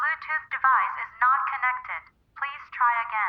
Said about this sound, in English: The only sound I heard was that annoying digital lady voice in my Bluetooth headphones